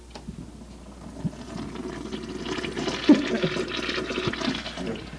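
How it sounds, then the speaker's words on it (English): A bathroom toilet flushes with a soft rushing swirl of water that builds and lingers, heard fairly quietly and close by, with no talking. "Did you flush yet?"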